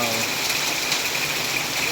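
Steady heavy rain during a windy storm hisses across the whole clip, with a constant rush of running water underneath.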